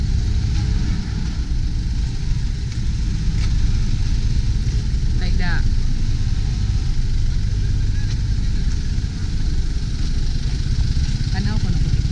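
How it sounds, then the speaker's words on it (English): Trucks and other vehicles idle together at a hot outdoor vehicle registration inspection lane, a steady low engine rumble running throughout, with people talking nearby over it. "There you can see that the truck's being inspected."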